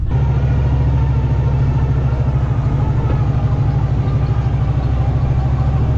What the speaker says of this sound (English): this truck is noisy, by the way.